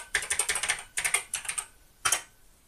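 Password typed on the keyboard of an Acorn BBC Master 128 home computer: close, crisp keystrokes in quick bursts, then a pause and one short final burst.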